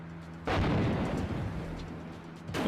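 In the PS1 beat 'em up Fighting Force, a gunshot hits the player: a sudden loud booming blast that decays over a couple of seconds, followed by a second burst starting at the end.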